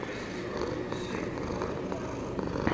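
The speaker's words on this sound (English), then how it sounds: "who's purring up a storm" A cat purrs continuously, close and steady, a low rhythmic rumbling throughout.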